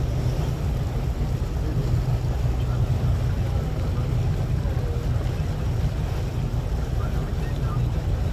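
A boat cruises along the Swan River at about 8 knots, with a steady broadband rush of engine, water and wind noise that holds constant throughout.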